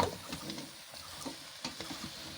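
Cauliflower leaf stems and spices, part of a mixed-vegetable chela fish shutki dish, are stirred in a pan: a soft sizzle with a few distinct scraping strokes of the spoon, fairly quiet, with no voices.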